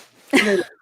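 A single short sneeze from a man mid-conversation, a sharp burst with a brief voiced tail, close and fairly loud.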